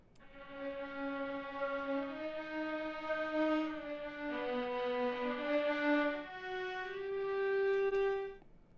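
Sustained bowed string notes from a sampled section move through a slow melodic line, smooth and full, ending with a long held tone and no speech.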